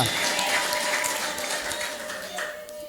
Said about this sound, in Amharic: ለራሳችሁ ስትሉ አጨብጭቡ